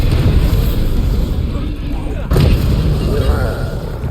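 A Bombarda spell explosion in Hogwarts Legacy, a loud booming blast over a dense rumble of combat, with a sharp burst near the middle.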